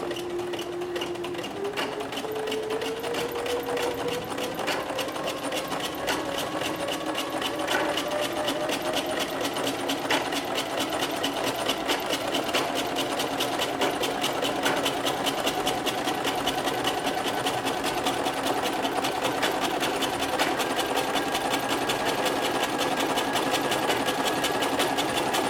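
A sewing machine runs continuously while twin needles hem knit fabric backed with fusible interfacing, a rapid, even stitching rattle with a motor whine that rises gradually in pitch.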